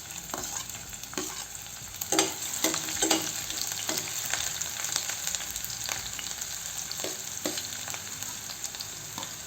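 Chopped onion hitting hot butter and oil in a pan for pav bhaji, a steady close sizzle with repeated scraping stirs of a spoon through the frying pieces, no voices.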